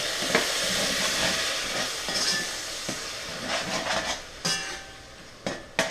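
Soy sauce poured onto softened onions in a hot pan, a loud hiss that rises and fades in waves, with sharp spattering crackles.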